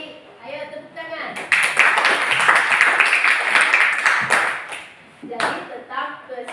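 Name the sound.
hand clapping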